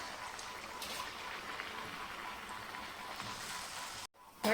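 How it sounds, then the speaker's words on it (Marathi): Fasting vadas deep-frying in hot oil for a Mahashivratri fasting thali, giving a steady, dense crackling sizzle with no talk, then a brief dip near the end and a louder burst. "आता एक एक वडे याच्यामध्ये टाकून तळून घ्यायचे"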